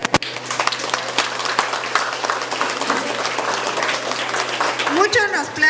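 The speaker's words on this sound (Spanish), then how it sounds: "Fuertes aplausos por él." Audience applause for a guest being introduced at a kindergarten closing ceremony in Ameyaltepec, Guerrero, a steady spread of clapping with a steady hum beneath and a voice rising near the end.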